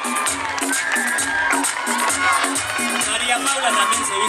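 Crowd cheering and clapping at a beauty pageant for a contestant, loud and lively with shouts and a rhythmic thumping beat, likely music, underneath throughout.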